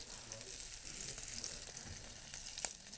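Flour-dusted shrimp fry in a little oil, giving a steady, close, soft crackling sizzle throughout, with no talking.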